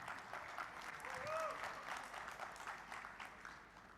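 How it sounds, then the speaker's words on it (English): Audience at a Google AI showcase claps as the next presenter is called up for the enterprise segment, soft, even applause throughout with a brief whoop or whistle near the middle. "Claps, please."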